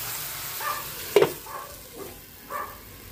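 Onions and tomatoes sauté in a hot pan while filling for rellenong bangus (stuffed milkfish) is prepared, a soft steady sizzle broken by a few brief clinks and stirs, fairly quiet and without talk.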